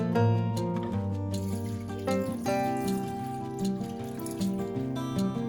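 Water pours and trickles into a pot holding allspice and cloves, a continuous liquid fill with shifting pitch as the level rises, heard close up.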